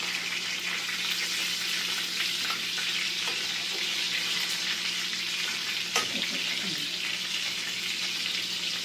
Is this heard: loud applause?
no